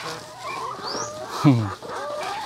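Chickens on a cage-free backyard poultry farm, a rooster or hen giving a loud, sharp squawk mid-clip amid softer clucking, with someone talking nearby throughout.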